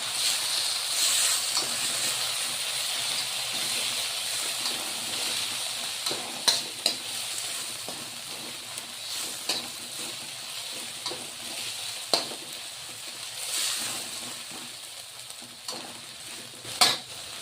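Homemade Schezwan chutney sizzles and fries steadily in a pan for chow mein, with a continuous hiss and occasional sharp scraping taps from stirring near the end.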